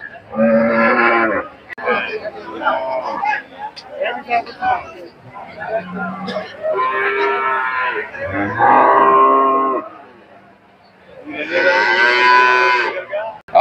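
Several cows moo loudly and repeatedly at a cattle market, long drawn-out calls close by, with people talking amid the noise of the busy market.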